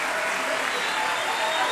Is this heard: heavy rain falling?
no